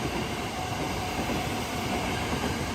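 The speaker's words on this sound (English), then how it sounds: "That is literally one of the night sleeper trains." A night sleeper train passes through Kyoto Station after dark, a continuous broadband rumble and rush of rolling carriages at steady volume with no talking.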